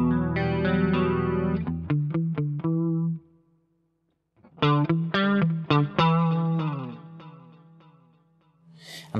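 Clean electric guitar tone through a Boss GT-10 multi-effects unit with delay switched off plays chords and single picked notes that ring out and decay, with a pause of silence midway before another phrase.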